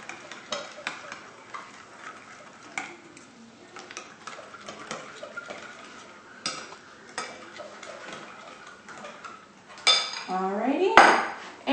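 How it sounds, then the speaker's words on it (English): A spoon stirs sugar into a sauce in a bowl at close range. Light clinks and scrapes against the bowl come in irregular bursts, and a sharper clatter sounds near the end. "And we'll get this mixed up."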